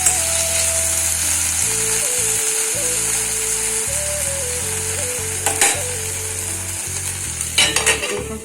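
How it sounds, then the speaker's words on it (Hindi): Diced potatoes and chillies fry in a pan over medium heat with a steady sizzle under background music. A few stirring clatters come near the end. "आलू सॉफ्ट हो गई पहले में मिर्ची डाल के और अच्छा भूनबो।"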